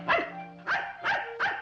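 A dog barks four times close by in quick, evenly spaced woofs, each clear and sharp, and no one talks.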